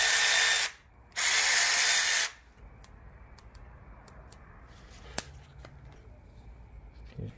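A HMMWV fuel line being taken apart to find a blockage: two loud bursts of what sounds like ratcheting tool noise, followed by quieter metallic clicks and handling sounds with one sharp knock.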